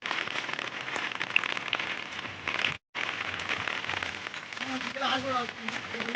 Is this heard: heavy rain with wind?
yes